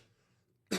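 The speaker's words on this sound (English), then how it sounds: "I'm actually coughing not because of my cough thing, because I went down the wrong pipe" A single sharp cough bursts out at the end after near silence, close and abrupt.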